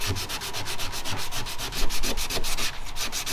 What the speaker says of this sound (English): we'll get this all sanded out